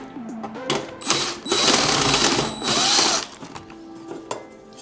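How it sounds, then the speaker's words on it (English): Screw being removed from a panel on a Wolf microwave with a turntable fault, a close, loud whirring power-driver burst in several pulses with short pauses and clicks between. "I'll take this screw off."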